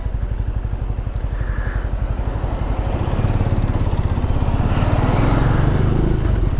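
A Benelli Imperiale 400 motorcycle ridden on the road gives off a steady, close single-cylinder thump with a rapid even pulse, rising slightly in pace, accompanied by wind rush.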